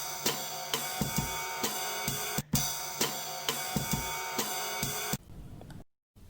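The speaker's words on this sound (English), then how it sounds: "The waltz would sound something like this." Waltz music plays in a lilting triple-time rhythm with regular accented beats under a full melodic arrangement, moderately quiet, ending abruptly after about five seconds.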